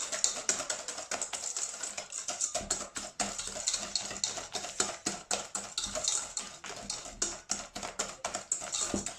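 A whisk or spoon stirs waffle batter in a bowl after yeast has been added, giving quick, steady clicking and scraping strokes close by, with no talking.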